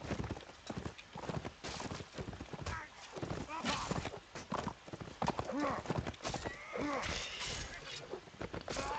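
Galloping horse hooves clatter rapidly in a competitive multiplayer video game match, with a horse whinnying amid clashing combat noise and a commentator talking over it.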